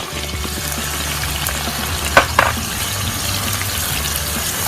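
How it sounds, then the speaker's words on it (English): Onions fry in a pan for a spicy Fiji-style mud crab curry, a steady soft sizzle broken by two brief stirring clatters near the middle. "And just fry off your onions."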